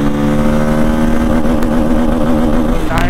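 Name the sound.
Bajaj Pulsar N250 motorcycle accelerating through gears in a top speed run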